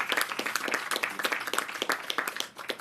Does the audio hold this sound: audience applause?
yes